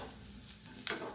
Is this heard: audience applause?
no